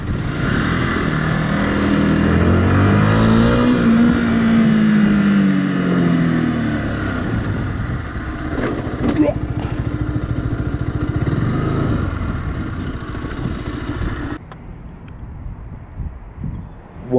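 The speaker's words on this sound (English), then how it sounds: "I'm letting that clutch out, I'm giving it more throttle." A Yamaha YZF-R125 (2015) motorcycle revs and accelerates as the clutch is let out and throttle added, engine pitch climbing and falling in a loud, close drone before cutting to quieter idle near the end.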